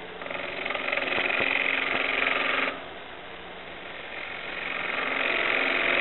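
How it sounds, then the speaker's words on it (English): A spindle gouge cuts wood on a lathe while a square bowl turns, producing a steady loud scraping hiss over the motor's hum; the cut eases off midway, then resumes. "a spindle gouge seems to work fairly well for this"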